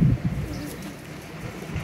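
A golden breeder pigeon, a female from the Mian Nazir bloodline, gives a few low, soft coos up close, with a brief louder burst at the start and quiet rustling between.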